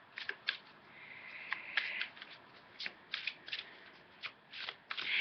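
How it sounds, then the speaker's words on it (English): A deck of cards being shuffled, with repeated short crisp riffling bursts in an irregular rhythm, close and fairly quiet, and no speech. "I'm shuffling the deck to see if there's another card that goes along with it."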